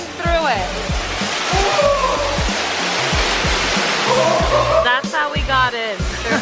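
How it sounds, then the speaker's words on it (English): A waterfall pours through the inside of a cave at Doughnut Falls, a steady loud rushing roar that fills the space while voices talk over it. "we're literally inside of a cave that has a waterfall coming through it"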